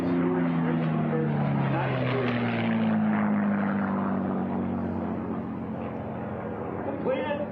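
Racing P-51 Mustang warbirds roar past the checker pylon at the Reno National Championship Air Races, a loud, steady propeller-engine drone that swells and then slowly fades as the planes go by.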